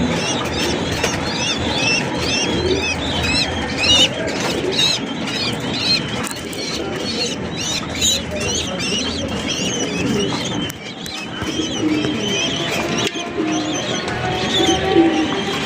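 A flock of fancy pigeons with their chicks coos continuously in a loft. Soft, overlapping calls and occasional wing flutters fill the whole stretch at close range.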